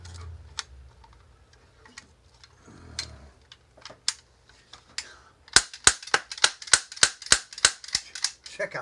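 A toy 1866 lever-action golden cap gun rifle fires a rapid string of about eight sharp, close cap snaps in the second half, preceded by quiet handling clicks and faint mechanical ticks.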